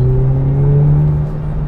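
The engine of a Renault Megane R.S. Trophy-R sports hatchback runs at a steady, loud drone, heard close up with a smooth, sustained tone and a slight rise in pitch.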